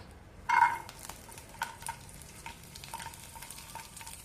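Garlic dropped into hot cold-pressed Manvik Naturals coconut oil for green tomato chutney: a sudden loud sizzle burst, then steady close frying hiss with occasional light stirring clicks.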